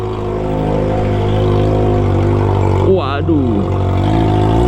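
Kawasaki ZX25R motorcycle with a loud aftermarket OC jet exhaust rumbles steadily and loudly through a narrow alley, its engine drone sustained throughout while a voice briefly exclaims near the middle.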